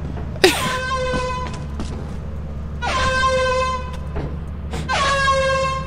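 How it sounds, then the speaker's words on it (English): An air horn blown three times in the video game Lethal Company, each loud blast starting sharply and holding a bright tonal chord for about a second, with a low steady hum underneath. "I want to blow the air horn."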